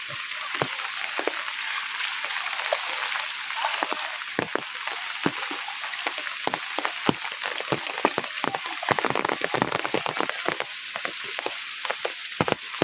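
Steady rain pours down with dense hiss, and scattered sharp drips and splashes of running water sound close by throughout, with no voices.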